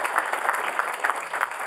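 An audience at a patient panel discussion claps steadily, a moderately loud, even wash of applause lasting under two seconds.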